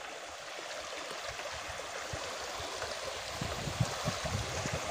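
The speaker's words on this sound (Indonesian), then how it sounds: "jadi ada sungai yang harus dilintasi" A shallow river in Pasirumbul, Pangandaran, being waded across on foot: a steady, moderately faint rush of flowing water, with soft splashes and gurgles near the end and no voices.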